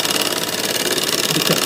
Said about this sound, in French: À l'aide de ma scie rotative, je coupe 8 morceaux.